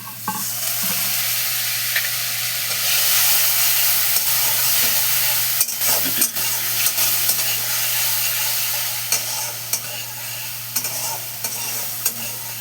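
Water poured into a hot pan of Ilish fish cooking with taro (gati kochu) sets off a loud, steady sizzle and hiss that keeps going for several seconds, with a few scraping stirs along the way.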